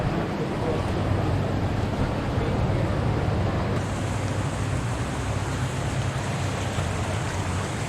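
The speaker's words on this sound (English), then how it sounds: "I can hear the waterfall," Distant waterfall roaring steadily inside a flooded tunnel near a river, a continuous broad wash of rushing water that stays even and unbroken throughout, with no talk over it.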